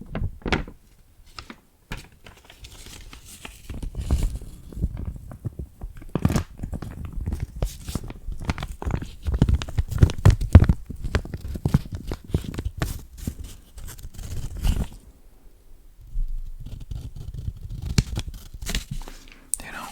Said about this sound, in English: That's the sound of cash money.